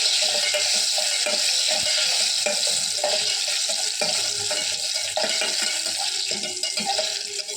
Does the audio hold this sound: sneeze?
no